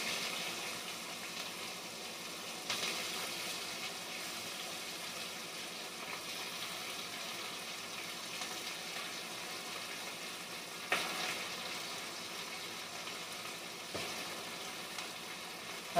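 Green chillies and onions frying in a pan make a steady, close sizzle and hiss, broken by a few soft clanks and scrapes from stirring.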